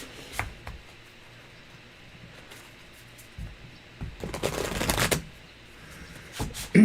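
Tarot cards are shuffled by hand, a sparse tick and flick at first building to a dense rippling riffle near the end, close and clear in a quiet room.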